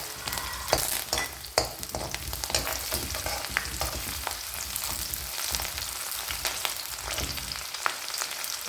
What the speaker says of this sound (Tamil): இஞ்சி பூண்டு ரெண்டும் நல்லா பொரிஞ்சதுக்கப்புறம் நம்ம கட் பண்ணி வச்சுருக்கிற பச்சை மிளகாய் 3 அதையும் சேர்த்துக்கலாம்.